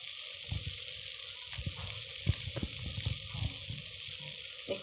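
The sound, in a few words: ghavan frying in oil on a pan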